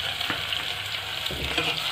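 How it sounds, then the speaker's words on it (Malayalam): Shallots with crushed garlic and ginger frying in oil for a Thrissur-style dish while being stirred nonstop in the pan. A continuous close sizzle carries a few scraping stirs and no voices. "കണ്ടിന്യൂസ് ആയിട്ട് നമ്മളിങ്ങനെ ഇളക്കിക്കൊണ്ടിരിക്കണം"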